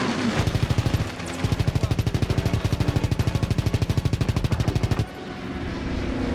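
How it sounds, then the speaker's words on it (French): Anti-aircraft guns firing in a Call of Duty level, a rapid, evenly spaced burst of heavy shots lasting about five seconds after a short opening volley, then cutting off abruptly into rumbling background. "Tire de DCA"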